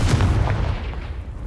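Confringo blasting spell cast in the Hogwarts Legacy video game, heard as a loud, booming burst with a heavy low rumble that trails off over a second and a half, no voices present.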